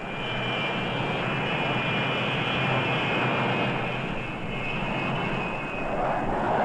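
A loud, steady jet engine roar with a high whine on top, sustained and close throughout, swelling slightly near the end, as a jet bomber launches by catapult from the carrier USS Enterprise.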